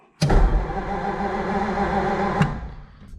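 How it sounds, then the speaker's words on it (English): A 1947 Ford flathead V8 in a barn-find coupe, abandoned for 15 years, cranks steadily for about two seconds without catching, close and loud, with a sharp click at the start and end. "But we turn her back on, she don't want to go."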